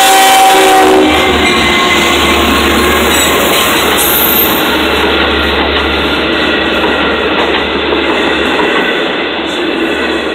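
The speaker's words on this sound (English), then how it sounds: "Here comes the Patchogue train." A four-car LIRR Patchogue train passes the Willis Ave level crossing in Mineola, a loud, close roar of wheels and rail clatter with a brief horn blast at the start, steady throughout.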